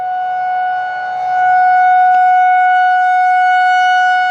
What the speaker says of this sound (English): Those are outdoor warning sirens for tornadoes and severe weather.